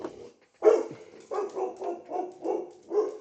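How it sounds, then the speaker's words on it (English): A dog barks repeatedly indoors, a sharp opening bark followed by a steady series of mid-pitched woofs at close range with no talk over them. "He gonna bark in every video"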